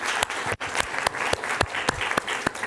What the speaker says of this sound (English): can we give a round of applause for all our panelists?